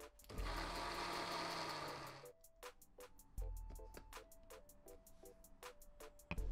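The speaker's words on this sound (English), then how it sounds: "Blend for about 1 minute." A loud whirring food processor blending coriander and water runs for about two seconds, then stops, leaving rapid rhythmic mechanical ticking and clicking.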